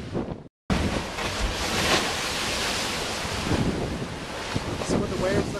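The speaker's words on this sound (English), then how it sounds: "See what the waves look like on the beach outside where I live." Storm surf rolls onto a beach on Abaco in the Bahamas after Hurricane Irene in 2011, a continuous loud roar of breaking waves mixed with heavy wind buffeting, after a brief dropout near the start.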